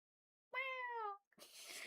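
A human voice imitates a cat with a single drawn-out meow of about two-thirds of a second. It is close and clear in a quiet room, followed by a brief breathy sound.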